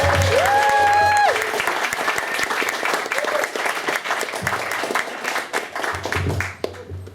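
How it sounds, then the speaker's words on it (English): Loud applause rings out from a comedy club audience at an open mic night in Plymouth, with cheering and whistles at the start before the clapping tapers into scattered claps. "we're going to start the applause in the front"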